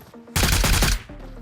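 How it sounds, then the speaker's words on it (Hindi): Gunfire in the mobile game PUBG Mobile (BGMI), a loud rapid burst of automatic shots lasting about half a second. "तो मैं देता हूँ प्री फायर।"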